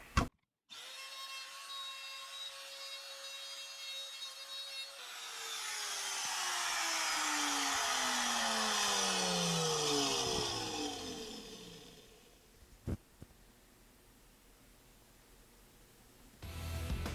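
A power tool cleaning up the pickup cavity in a Gibson Les Paul Jr. body during a humbucker-to-P90 retrofit: a steady whine that rises into a broad, loud grinding roar for several seconds, then winds down, with a sharp knock near the end.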